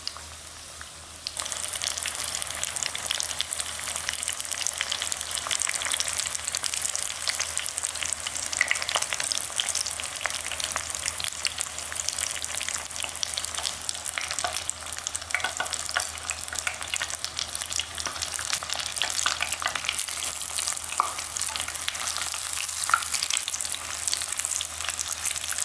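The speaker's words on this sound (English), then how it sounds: "the sound of frying becomes really light and a little quiet" Tonkatsu pork cutlets deep-fry in hot oil with a steady, close, crackling sizzle of fine bubbling that holds evenly for about 25 seconds without speech.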